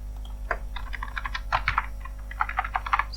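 Close, steady computer keyboard typing with a continuous patter of key clicks over a low background hum, no speech.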